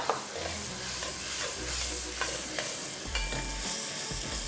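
Chopped onions sizzle in a pan with green chilies while being stirred, with a continuous frying hiss broken by scraping stirs and light utensil knocks, close and moderately loud.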